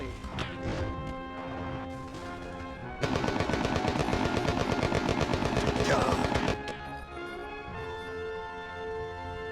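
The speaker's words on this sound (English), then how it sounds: "Taking fire!" Dense bursts of rapid automatic gunfire in a first-person shooter firefight, a sustained loud volley in the middle with scattered shots before and after over a steady game soundtrack.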